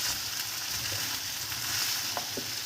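Potatoes being turned and fried in a pan, with a steady broad sizzle and a few soft stirring knocks underneath.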